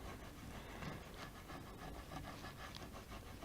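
A burnishing tool rubbed over a peel-off sticker laid on a paper design, a faint, close, steady scratchy rubbing with quick back-and-forth strokes, no talk.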